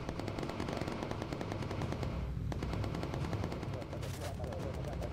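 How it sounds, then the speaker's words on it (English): Rapid machine gun bursts from aircraft gunners in the video game Bomber Crew, sustained and loud over a droning engine background, with a brief pause midway before firing resumes. "Good shooting, Ren."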